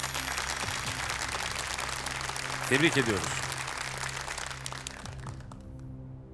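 A studio audience applauds a contestant at a Quran recitation competition, a steady wash of clapping running under a presenter's voice before fading out near the end.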